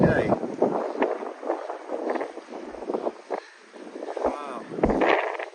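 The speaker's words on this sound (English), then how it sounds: "it's a windy day" Gusts buffet a microphone on a windy day at the plover hide at Rutland Water Nature Reserve, a steady low rumble and flutter that swells and dips, with voices talking under it.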